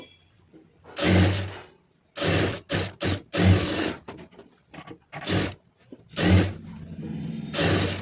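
A sewing machine stitches a plain blouse in several short runs of rapid mechanical whirring, each burst a second or less, broken by brief quiet pauses between them.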